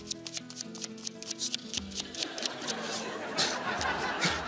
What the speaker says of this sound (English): Alison, I shuffle the deck and you say a stop whenever you want